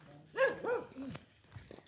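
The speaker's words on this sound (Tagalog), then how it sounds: "Lalaki ng mga aso dito." Large dogs bark close by near houses, giving three or four quick, loud barks in a row that fade into a few softer sounds.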